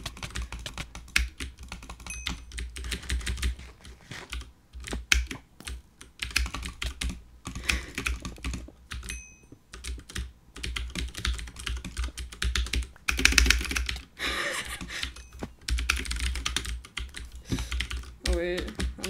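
Rapid typing on a computer keyboard, dense bursts of close clicking keystrokes continuing for about nineteen seconds with short pauses between runs.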